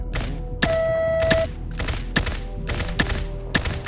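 Repeated gunshots fired at a target board about 15 metres away on a Combat Master video game shooting range, several sharp close reports spaced unevenly about half a second to a second apart, with a sustained tone ringing between two of them.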